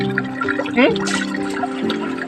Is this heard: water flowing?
yes